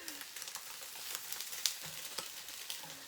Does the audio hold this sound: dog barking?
no